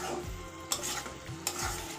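Water hits fried paneer curry in a hot pan, setting off sizzling alongside two sharp scraping stirs of a spatula, close and moderately loud with no speech.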